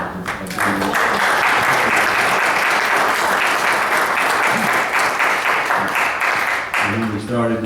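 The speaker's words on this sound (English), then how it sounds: "it deserves an applause." Sustained applause from the room at a mayors' round table on homelessness, a steady wash of many hands clapping for several seconds, with a voice speaking briefly before and after.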